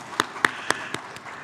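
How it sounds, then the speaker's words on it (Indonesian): Five sparse, evenly spaced claps ring out at a corporate index launch event, faint and brief against a quiet room, fading slightly toward the end. "Tepuk tangan."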